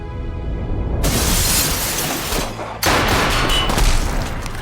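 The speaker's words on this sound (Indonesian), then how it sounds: "lalu menembaki pelindung kaca yang ada di sana" Gunfire shatters a glass shield in a yakuza live-action film, a loud burst of shots and breaking glass with a sharp crash partway through, followed by more cascading shards, no talking.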